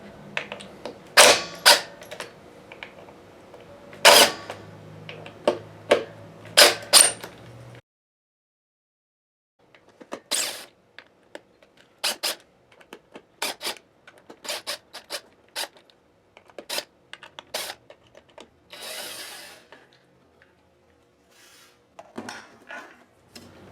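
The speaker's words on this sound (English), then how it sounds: "the upper neck strap just kind of holds the neck face down while we remove those screws. So I just kind of crack them first." Guitar neck screws on a Strat-style kit being cracked loose and backed out with a screwdriver: close, sharp metallic clicks and creaks in irregular bursts, with a quiet pause partway through.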